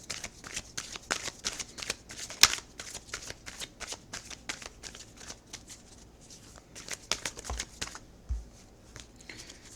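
Tarot cards are shuffled close up, giving quick papery riffles and flicks in irregular bursts with a sharp slap midway, quiet and with no talk.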